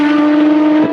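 Lotus Evora fitted with a full exhaust system, its engine holding a steady, loud drone with a strong fixed tone. The sound is continuous and close, with a slight dip right at the end.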